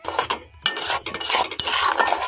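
Water is stirred into a mix of tea and sugar in a small dish, making rapid, close scraping and rubbing strokes in an uneven rhythm with no talk.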